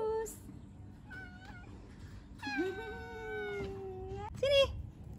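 A domestic cat meows several times close by, with short calls and then one long drawn-out cry, over a quiet outdoor background.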